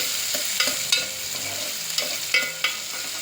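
Spices being stirred and fried in a pan with onion, a steady close sizzle broken by several sharp scraping stir strokes.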